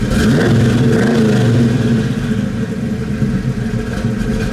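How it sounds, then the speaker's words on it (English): A 1976 Pontiac Trans Am with a 455 V8 and four-speed, parked and revved hard, its deep engine note rising and falling in loud, steady bursts with no talk over it. "Go ahead, give it a rev."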